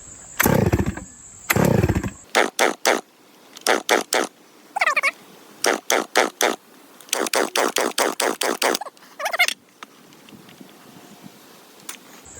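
A Stihl MS-660 clone chainsaw being pull-started. The first two pulls are longer and rasping, then come quick bursts of short repeated pulls. It does not fire, and a faint quiet tail follows.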